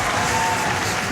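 Audience at a Summer Games Done Quick 2023 speedrun event applauding for the runner, a dense, steady burst of clapping from a large crowd, loud and close.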